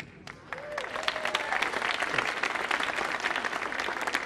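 An audience applauds a comedian at an indoor stage performance, with steady clapping that builds and holds, fairly distant and moderate in level.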